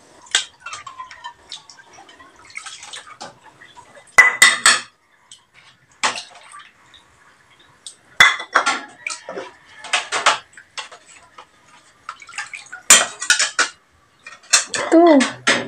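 A child washes dishes, making scattered clinks and clatters of a spoon and plates with splashes of rinsing water in irregular bursts separated by quiet gaps, close by.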